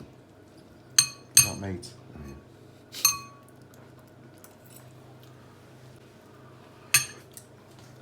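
Metal forks clink and scrape against plates of slow-cooked pork ragu pasta during tasting, with four sharp bright clinks at irregular intervals over a low room hum, and a brief spoken phrase between them.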